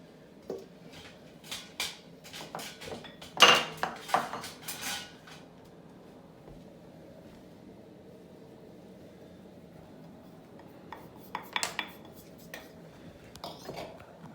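A spatula scraping and clinking against a bowl while hot buttered rum ingredients are mixed, with sparse clattering strokes in two bursts separated by a quieter stretch, close by and fairly faint.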